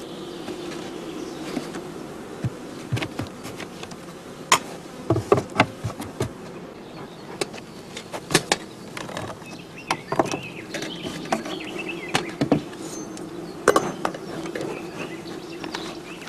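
Honeybees buzzing around a hive during queen introduction, a steady close drone with scattered sharp clicks and taps over it, and no voices.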